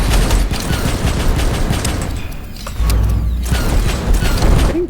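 Automated turrets in Abiotic Factor fire in rapid mechanical bursts, clattering and ratcheting loudly and continuously up close, with a brief lull midway before the firing resumes.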